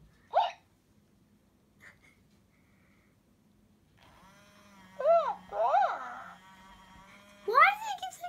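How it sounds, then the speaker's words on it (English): A Hatchimals Bearakeet electronic toy named Milo gives several squeaky, chirping hiccup sounds in short bursts, with a soft low hum in between and no talking. "Milo has the hiccups."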